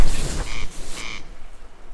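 A corncrake calling near a riverside camp in the Ural taiga, a rasping double-note call repeated twice, fairly close and loud over low background rumble.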